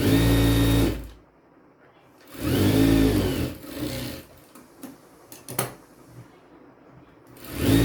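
A sewing machine stitching a square katori-style blouse runs in two loud bursts of steady motor whir, each about a second long, separated by quieter handling clicks and rustles of the fabric.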